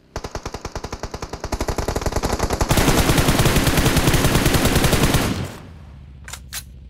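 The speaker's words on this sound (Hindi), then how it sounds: "ये बंदे M4 और बैरल ऐसा चला रहे हैं जैसे इनके रिकॉयल ही नहीं है भाई गन में" Rapid automatic M4 rifle fire in a mobile shooter game, a loud close stream of evenly spaced shots that thickens into a dense continuous burst before stopping, followed by faint beeps.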